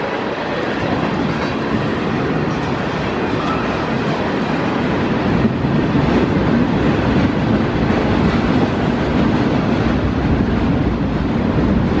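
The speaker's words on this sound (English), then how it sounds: "you can hear the sound of the train through the rock too" A train rumbles through the rock of the abandoned Point Rock railroad tunnel near Columbia, Pennsylvania, a loud continuous roar with a faint rhythmic clatter that holds steady the whole time, with no voices.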